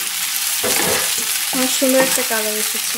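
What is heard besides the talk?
mola fish frying in a pan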